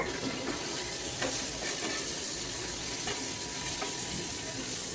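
Egg being fried and stirred in a pan for bhuna, a constant close sizzle with scraping stirs throughout, no voices.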